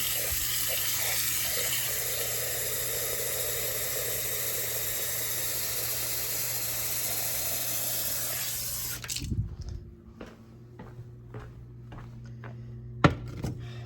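Hot water runs from a kitchen tap to fill a pot: a steady, close rushing stream for about nine seconds that cuts off abruptly, leaving quiet clinks and knocks.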